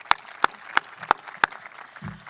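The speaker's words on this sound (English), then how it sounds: "everybody give yourselves a round of applause" Graduates at a high school commencement clap for themselves: five loud, sharp claps spaced evenly about a third of a second apart, each standing out alone, followed by a soft low thump at the end.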